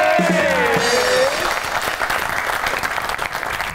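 A studio audience on a comedy show breaks into loud, sustained applause as guests are welcomed. The clapping is thick and continuous, and a rising musical tone plays over its opening moments.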